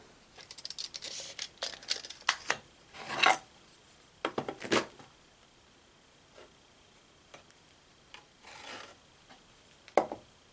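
Scissors snip and rasp through a template for a garden box lid backstop in irregular bursts of short cuts with pauses between them, close up and without speech.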